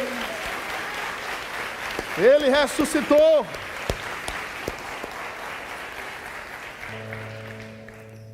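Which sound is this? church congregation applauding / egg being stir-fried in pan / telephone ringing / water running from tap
church congregation applauding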